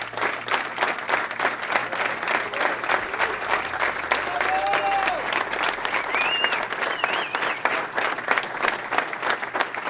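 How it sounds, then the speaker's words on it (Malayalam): Sustained, brisk applause from a group of fellow referees clapping steadily, with a few faint whistles or voices mixed in. "ലോകകപ്പിന്റെ റഫറി പാനലിലെ സഹപ്രവർത്തകർ കൈയടിച്ച് അഭിനന്ദനം അറിയിച്ചപ്പോൾ കരച്ചിലടക്കാൻ പാടുപെട്ടു 46-കാരനായ വിൻസിച്ച്"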